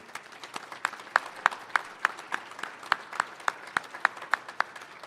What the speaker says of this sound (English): I just wanted to give a round of applause to everyone at DPS